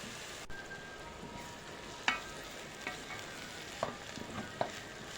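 Chopped onions sauté in a pan, softening and turning translucent for a stuffed-intestine filling. A low, steady frying hiss runs throughout, with a few sharp scrapes and taps of stirring, and no one talks.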